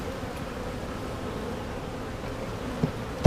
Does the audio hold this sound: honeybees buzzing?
yes